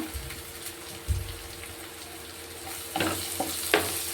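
Onion and ginger-garlic paste frying in a pan with cumin, giving a soft, steady sizzle with a few louder crackles and stirring bumps.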